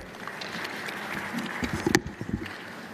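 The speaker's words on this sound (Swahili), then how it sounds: "Makofi mabibi na bwana" Brief burst of audience clapping at the closing ceremony of the 10th African Rift Geothermal Conference in Tanzania, a dense patter of hands that grows a little sharper toward the end.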